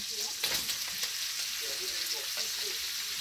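Bacon frying in a pan as sliced, washed mushrooms go in, a steady bright sizzle with soft scraping and stirring knocks throughout, close and fairly quiet, no talking.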